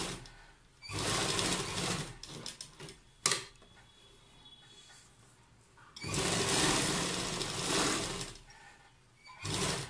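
A sewing machine stitches a folded kurta neckline in several loud, rapid whirring bursts separated by short pauses, close to the microphone with no talking.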